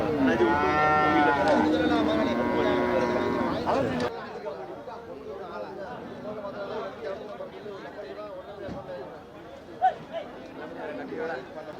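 At the Manapparai cattle market, a cow lets out a loud, close, drawn-out moo lasting several seconds, followed by a busy murmur of crowd chatter, and people talk nearby.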